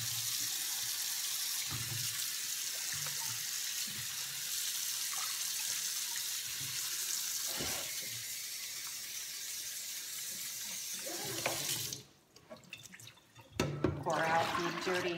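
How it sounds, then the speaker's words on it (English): Tap water runs steadily into a bowl with a broad hiss, then cuts off near the end, followed by a few clinks and splashes. "I'll fill up this bowl with some cold water."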